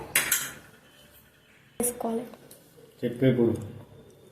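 A spoon clanks and scrapes against a metal pot while chicken biryani ingredients with lemon are mixed, coming in three bursts of clattering with quieter gaps, and voices can be heard in the background.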